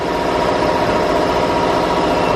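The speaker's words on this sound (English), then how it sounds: "shut off the compressor and be right back" An air compressor runs steadily in an old steam-powered machine shop, producing a continuous loud mechanical hum and rumble with no pauses or voices.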